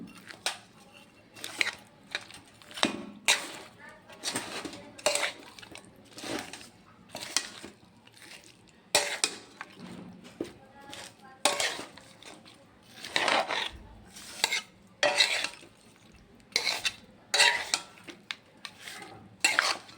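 Salt, turmeric, dried chilli and oil being mixed together by hand in a bowl, with repeated squelching, clinking strokes at a steady rhythm, close and fairly loud.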